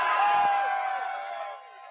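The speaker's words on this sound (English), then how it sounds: "Just listen to the crowd at 7:30 a.m. on a cold Saturday morning" Students and fans crowd outside the Dean E. Smith Center on a cold early Saturday morning before a college game day, raising a loud sustained cheer and whoops that fade gradually toward the end.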